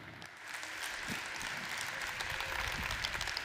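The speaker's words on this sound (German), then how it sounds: "Applaus, Applaus, Applaus." A congress audience at a business technology event in Rust applauds, the clapping swelling after a quieter start into a sustained crowd of hands, with faint individual claps sharp above the mass.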